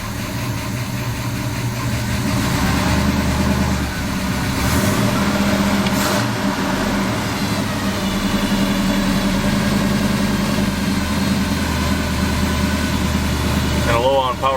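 Big block engine in a dually truck idles just after starting, a steady low rumble close by, with a person talking over it.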